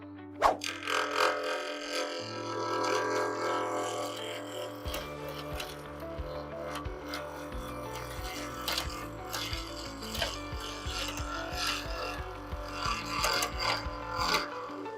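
Wood lathe spinning a handle blank on a bottle-stopper mandrel at about 2,500 RPM while an Easywood Tools negative rake cutter scrapes it: a steady close hum with repeated rasping, scratchy cuts and rubbing throughout, no talking.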